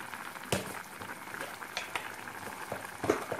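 Steady bubbling and crackling of salted water at a boil in a pot, with a few louder pops and clinks scattered through, close by.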